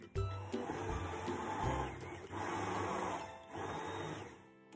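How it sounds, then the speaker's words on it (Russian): An immersion blender whirs steadily through peeled tomatoes in a kitchen, a continuous motor drone with a few brief pulses, fairly faint. "Помидоры я помещу в погружной блендер и перебью."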